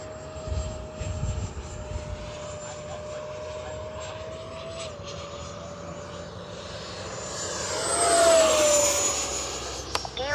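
An FMS Rafale 80mm electric ducted-fan RC jet comes in to land, its high, steady whine holding level, then swelling louder and shifting in pitch as it passes close overhead, with wind noise throughout.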